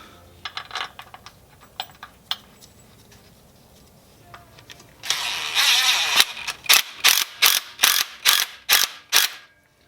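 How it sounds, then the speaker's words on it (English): Bolts being driven in during a part-time kit install on an 80 Series Land Cruiser, heard as scattered clicks and then a run of eight or so loud, evenly spaced ratcheting bursts close to the microphone, with no talk. "And now we are just putting in bolts."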